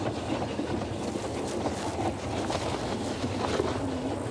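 Train running on rails in a Western film: a steady rumbling roll with rattling, clattering wheel noise and wind-like rush, continuous and fairly loud throughout.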